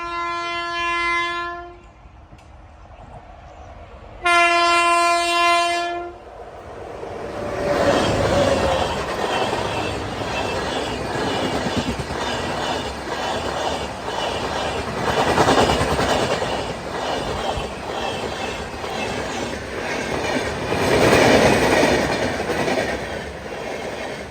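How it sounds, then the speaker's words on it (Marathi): A train horn sounds twice loudly, then the rumble and rhythmic clickety-clack of rail cars passing close by, continuing steadily to the end. "आता इकडून आली ट्रेन"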